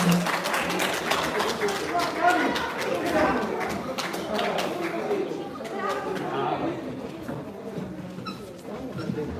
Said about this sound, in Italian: Facciamo un bel applauso alle due ragazze, alle due atlete, alle due pugiliste